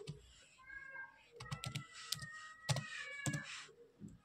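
Keys tapped on a computer keyboard while entering a command prompt command, a quick cluster of light clicks, close but faint, with a soft background hum.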